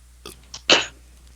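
A person with a cold coughs once, a loud close hack with a throaty rasp, after two faint catches of breath.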